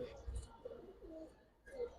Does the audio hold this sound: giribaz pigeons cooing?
yes